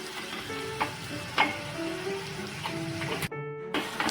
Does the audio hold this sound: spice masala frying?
yes